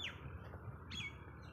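Pigeons chirp in short, faint calls against a quiet outdoor background, a couple of brief tweets a moment apart.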